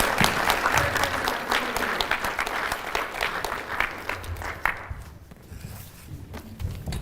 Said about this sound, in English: Okay, round of applause for these fantastic.